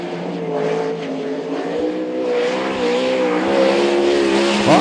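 A sprintcar runs its start-up lap at Archerfield Speedway during a 2012 race meeting, its engine droning loud and steady with rising revs and a touch of tire noise near the end.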